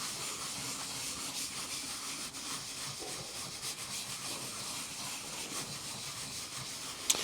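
Thick paper is rubbed over a carved woodblock for Japanese printmaking, producing a soft, continuous hiss of close friction that stays even throughout with only slight swells.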